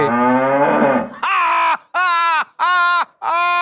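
A buffalo lows loudly and close: one long drawn bellow, then four shorter, evenly spaced moans with brief silences between them.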